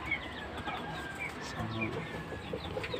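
Rhode Island chickens kept near a homemade incubator setup cluck and chatter steadily, with several overlapping birds at close to moderate distance and a faint murmur of voices underneath.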